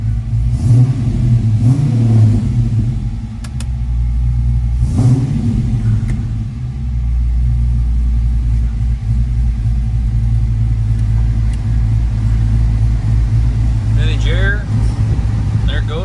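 A 1971 Chevrolet Camaro Z28 restomod with a 6.2-litre LS3 V8 rumbles loudly and steadily close by, with brief revs near the start before settling into a deep, even idle.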